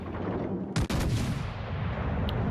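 Guns of the FDG warship in a naval video game fire a single heavy, close salvo, a sharp double blast that rolls off quickly against steady background game noise.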